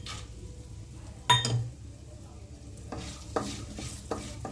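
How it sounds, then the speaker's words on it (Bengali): Nuts, grated coconut and raisins frying in oil in a pan with spices, a soft sizzle under a few sharp stirring scrapes and clinks of a utensil against the pan, close and fairly quiet. "বাদাম নারকেল ভালোভাবে ভেজে নিচ্ছি।"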